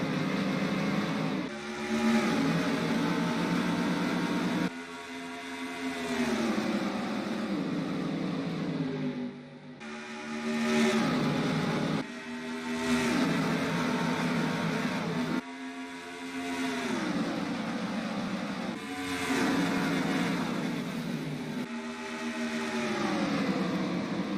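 Stock cars roar off at the green flag of the Coca-Cola 600 at Charlotte, engines revving hard in repeated rising surges as the pack accelerates, loud and continuous with shifting pitch as cars pass.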